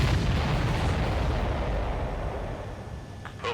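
Explosions in the video game Ace Combat 7, a heavy continuous rumbling roar of blasts that is loud at first and slowly fades, with a short pop near the end.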